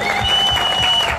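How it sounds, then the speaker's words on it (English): A crowd applauding at the launch of a new political party in Harare, Zimbabwe, with a brief burst of dense clapping heard close and loud. "Come on, a big round of applause."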